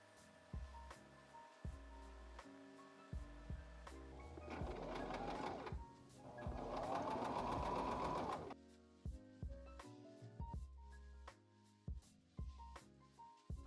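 Sewing machine stitching a thrifted garment: a few short mechanical bursts build to a sustained, loud run of rapid stitching, then stops and starts again in brief spurts, close up with no talking.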